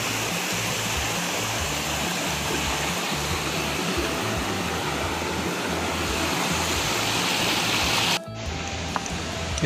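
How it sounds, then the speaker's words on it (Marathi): Small waterfalls and streams rush through a dense forest on the Raigad circuit, a steady broadband roar of flowing water, close and loud, cutting off abruptly near the end. "हे असे धबधबे, छोटे छोटे ओढे, नाले असे वाहत असतात."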